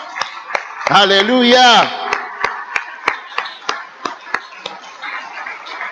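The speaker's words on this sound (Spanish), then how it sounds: "Un aplauso al Señor." A church congregation claps in a steady, even rhythm, sharp claps repeating several times a second, right after a loud sung exclamation from a voice.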